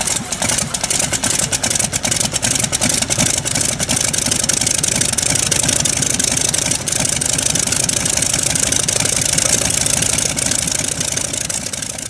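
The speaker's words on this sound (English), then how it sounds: "the tremendous roar of that motor" A vintage Stinson Reliant aircraft engine roars continuously and steadily, close up, with a dense rumbling drone throughout.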